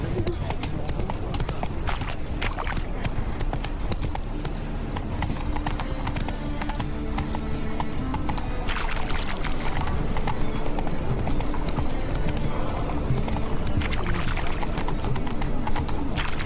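Roach the horse gallops in The Witcher 3, hoofbeats clip-clopping steadily and continuously under game music and ambience, with a brief whinny and speech over the top.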